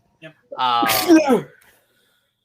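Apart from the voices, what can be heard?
sneeze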